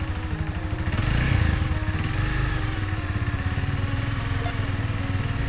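A motorcycle engine runs steadily at about 2500 RPM with an even, rapid mid-pitched throb and slight clatter, swelling briefly before settling into a constant drone.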